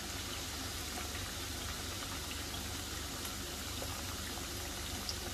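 Pori dough frying in well-heated oil, a steady, soft bubbling sizzle that holds evenly without pause and with no talk.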